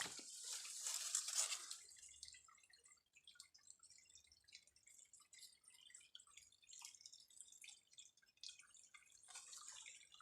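Water trickles and drips from a clean natural spring, a brief brighter splash at first, then faint scattered drips and trickling, quiet and close.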